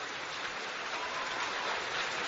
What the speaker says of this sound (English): And you hear the crowd reaction here at Surprise Stadium